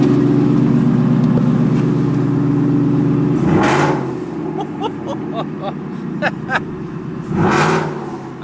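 A Ford F150 truck fitted with a new engine runs loud, a heavy droning rumble that gives way to two sharp revs rising and falling, with brief clatter and knocks between them, close by.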